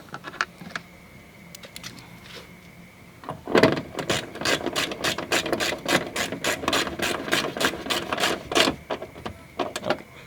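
Screws on a Maruti Suzuki S-Cross headlight are snugged down with a ratchet, giving a fast run of close, crisp clicking bursts after a quiet start, with a few scattered clicks at the end.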